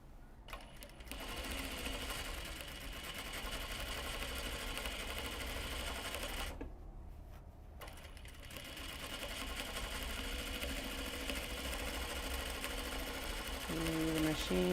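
A sewing machine runs steadily, stitching a fabric knot bag, with a constant mechanical whir that drops out briefly in the middle before resuming.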